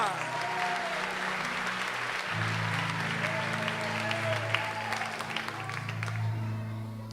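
A church congregation at a Portuguese-language worship service applauds steadily and loudly throughout, a dense sustained wash of clapping with faint tonal background sound underneath.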